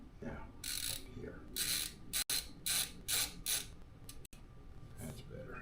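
Screws being driven into a computer case during a PC build: a series of bright, raspy ratcheting bursts in uneven runs, close and fairly quiet, with short pauses between turns.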